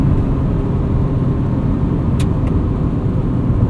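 The engine of a 1999 Honda Civic Si (EM1) revs hard as its VTEC engages, a loud, steady, dense roar heard from inside the car with no break.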